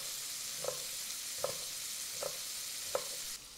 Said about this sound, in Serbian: Pileća džigerica se i dalje prži.